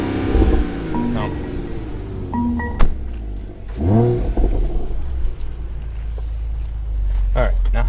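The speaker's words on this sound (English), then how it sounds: "All right, just give it a couple blips. Let me try it in neutral." A 2022 Mercedes-AMG GLE 53 engine is blipped a couple of times in neutral, rising and falling sharply. Voices talk close by between and over the revs.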